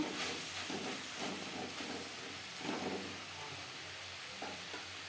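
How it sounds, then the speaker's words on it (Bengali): Green beans and chopped tomato sizzle in a pan over the gas flame, a steady close hiss with soft scraping stirs pulsing through it. "শিমের সাথে টমেটো বেশ ভালো করে মিক্স করে দেব।"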